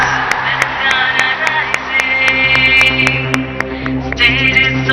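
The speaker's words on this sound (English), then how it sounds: "Let's give them a big round of applause, guys" An audience at a film industry panel at a global summit in Telangana claps, with sharp scattered hand claps over a sustained tonal music bed, fairly loud and continuous throughout.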